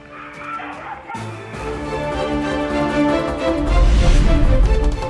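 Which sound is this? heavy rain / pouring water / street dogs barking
street dogs barking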